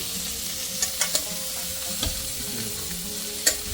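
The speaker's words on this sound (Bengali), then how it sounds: "আবার একটু নেড়ে দিচ্ছি" A spoon stirs fried winter vegetables into a vegetable khichdi over a steady sizzle, with a few sharp clinks and scrapes against the pot.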